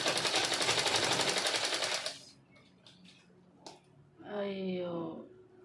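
A sewing machine stitches cloth with a fast, dense mechanical rattle that lasts about two seconds and then stops. A person then speaks over quiet background sound.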